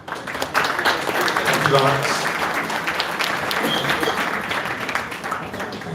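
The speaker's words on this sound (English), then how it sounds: "thank you for that warm round of applause" Conference audience applause at a Bitcoin Ireland gathering, a dense steady wash of clapping filling the room, with a voice briefly speaking over it.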